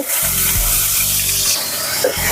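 Half a spoon of cumin and a paste of one large ground onion frying in hot oil on medium heat for egg posto, a loud, dense, continuous sizzle with a low intermittent hum beneath.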